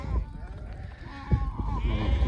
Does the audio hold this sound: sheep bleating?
yes